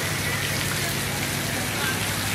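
Heavy rain falls in cold, blustery weather, making a dense, constant hiss that stays loud throughout with no pauses.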